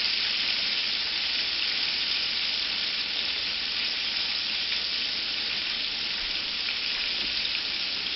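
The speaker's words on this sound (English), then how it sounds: "Those are almost done frying." Floured cube steak sizzles steadily in a hot pan, a continuous bright frying hiss with faint crackles and no talking throughout.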